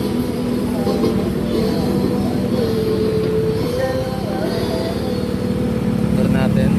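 A motorcycle ride through Bulacan, with a steady engine drone and rushing road noise throughout while a rider talks over it.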